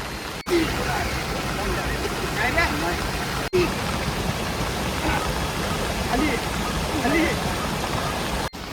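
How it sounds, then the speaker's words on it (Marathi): Rainy-season stream water pours over and across a plywood board set up for fishing, a steady, loud, broadband rush with a few brief dropouts, and a voice seems to be present at times. "बघू शकता प्लायच्या वरून पाणी चाललं आहे"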